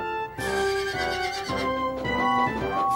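A loud, shrill horse whinny at a circus, rising and wavering in pitch as it repeats, close and clear with little else around it.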